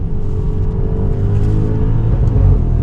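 A 2013 V8 family car revs hard after a downshift into second, a loud, close engine roar with a steady low rumble that builds slightly toward the end.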